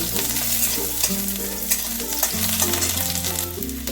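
Chopped ginger and garlic fry in mustard oil in a pan, a close, steady sizzle broken by scraping stirs, with background music playing throughout and no talking.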